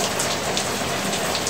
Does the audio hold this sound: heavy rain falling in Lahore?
yes